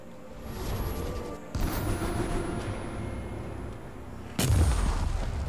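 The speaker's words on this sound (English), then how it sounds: "Oh, the arch cannon." Arch cannon firing in Elder Scrolls Online: Morrowind, heavy rumbling blasts in a few surges, with a sharp louder boom near the end over a continuous low roar.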